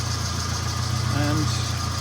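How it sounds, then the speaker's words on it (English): A rebuilt Turbo 16 engine in a 1991 SAAB 900 Carlsson ticks over at idle, a steady low even hum with faint mechanical whir, heard close up with light talk over it. "It's the Turbo 16 engine,"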